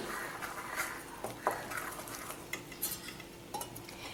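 A spoon stirs a homemade herbal shikakai shampoo mixture with neem leaves in a bowl, giving soft, quiet scraping and light clinking strokes at an irregular pace.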